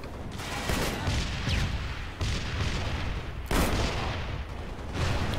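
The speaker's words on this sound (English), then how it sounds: "Oh, big explosion." Explosions in the video game Halo Spartan Assault: repeated heavy booming blasts and gunfire-like bursts, loud and dense, with a few sharp surges over a continuous rumbling background.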